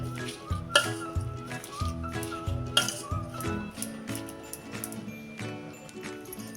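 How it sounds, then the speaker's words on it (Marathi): A spoon clinks and scrapes against a pot while grated amla is stirred with jaggery, giving irregular taps and scrapes at close range over soft background music. "चांगलं मिक्स करूया"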